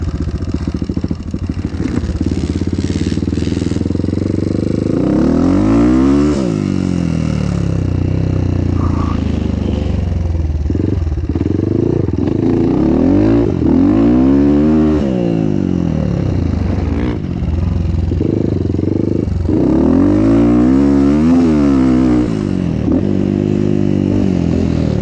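Motocross motorcycle ridden through a city toward a motocross track, engine revving up and down in repeated accelerating sweeps with wind and rattling, loud and close-miked.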